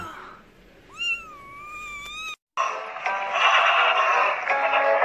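A cat gives a clear, drawn-out meow with a rising then wavering pitch, heard close in a quiet room, followed by a short break and then a louder burst of noise.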